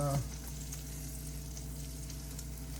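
Butter melting in a hot pan gives a steady, close sizzle that runs throughout, with a brief low tone at the very start and no talking.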